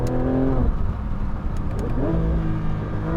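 A Porsche 911 992 GT3 RS engine revs hard, drops sharply on a quick gear shift and climbs again, loud and close, with no voices over it.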